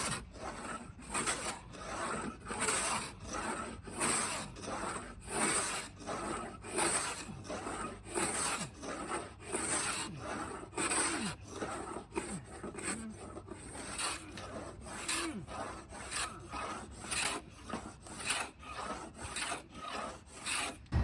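A wooden boat hull's old finish being scraped off by hand in steady, rhythmic strokes, each a close, gritty rasp with chips breaking loose, repeating about once a second without talk.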